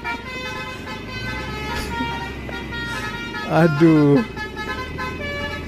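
A telolet bus horn plays a short, bright, multi-tone melody stuck in a traffic jam, the tune sounding briefly over a steady bed of idling engine noise while a person talks throughout.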